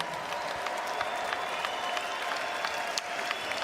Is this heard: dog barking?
no